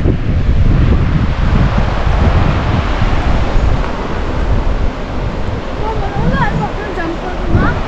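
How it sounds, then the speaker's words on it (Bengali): The Mo Chhu river in Punakha, Bhutan, rushes beneath a suspension bridge as a loud, continuous roar of water mixed with wind buffeting the microphone. "নদী বয়ে গেছে"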